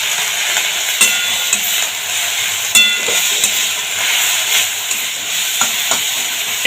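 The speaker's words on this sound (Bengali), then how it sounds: "লঙ্কাটা একটু ভেজে নেব এর সাথে।" Seven or eight green chillies fry with turmeric in a pan, producing a steady hissing sizzle punctuated by sharp spoon clinks and scraping strokes.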